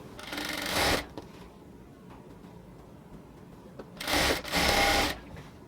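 A sewing machine runs in two bursts to stitch a salwar pant seam. A short run is followed by a pause of quiet rustling, then a second whirring run close by.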